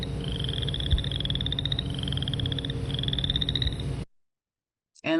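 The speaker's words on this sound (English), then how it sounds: "Royal chorus frogs, teeny tiny little guys." Chorus frogs calling in a dense, close chorus, rising trilled notes repeating in overlapping bursts over a rough croaking bed, cutting to silence before a brief final burst.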